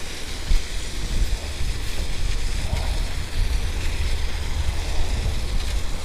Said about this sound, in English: I hope that was about the wind noise.